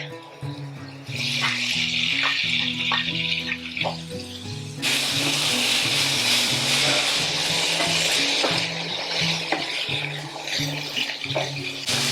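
Pork frying in a pan for arroz a Valenciana gives a steady, loud sizzle throughout, with a brief quieter stretch near the start and a surge in intensity midway.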